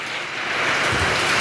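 Steady rain falls outdoors on a hillside stairway during a morning stair-training session at Morro do Espia in Iguape, São Paulo, a dense broadband hiss that swells slightly louder partway through, with no voices.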